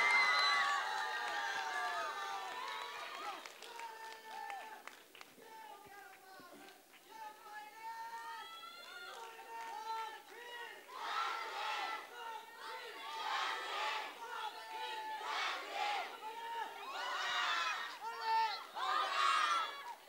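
An audience at a dance competition's elimination round in Arunachal Pradesh cheers and shouts for the performers, with whoops and excited cries rising and falling for about twenty seconds, loudest at the start and swelling again toward the end.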